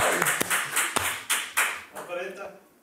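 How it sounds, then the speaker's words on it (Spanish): Podcast audience clapping in a short burst of sharp, uneven claps, close and fairly loud, fading out toward the end. "Fuerte aplauso para Isaac Mendigo!"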